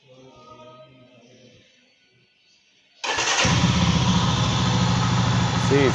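A Jawa Classic motorcycle engine catches abruptly after quiet talk and settles into a loud, steady, close idle with an even rumble.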